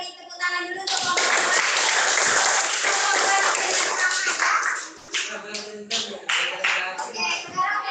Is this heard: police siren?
no